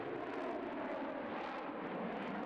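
An F-16 jet accelerating down the runway for takeoff, a steady, loud, broadband engine roar that stays constant throughout with no voices.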